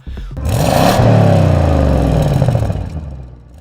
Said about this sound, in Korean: 업그레이드된 배기 장치로 표준 모델보다 더욱 매력적인 소리를 낸다고 하죠.